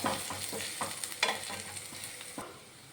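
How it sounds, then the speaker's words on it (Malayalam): Chopped curry leaves get stirred into sautéing onions, ginger and green chillies, with a quiet pan sizzle under repeated scraping strokes of a spoon against the pan, alone without talk. "അതും കൂടെ ചേർത്ത് കൊടുത്ത് നന്നായിട്ടൊന്ന് ഇളക്കിയെടുക്കാം"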